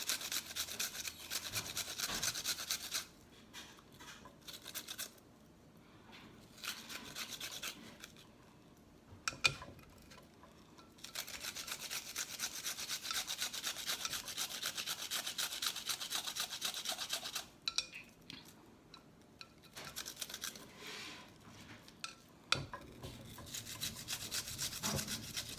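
Onion grated on a small mini box grater about 4 by 2 inches with large holes: close, rhythmic rasping scrapes in runs, broken by several short pauses.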